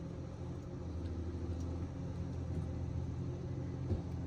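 A Ponsse forestry harvester runs at a steady idle-to-mid rumble in the woods, its engine droning continuously and evenly throughout with no talk.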